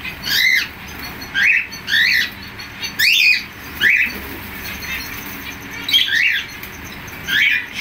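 A flock of birds squawks and chirps in sharp, repeated rising calls, close and loud, arriving in bursts about once a second over a faint background hiss.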